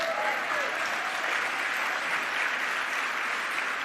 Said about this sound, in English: yeah, we should clap for her.